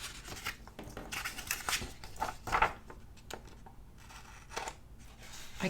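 Scissors snip through a sticker sheet in a planner, a series of close, crisp cuts with soft paper rustling between them.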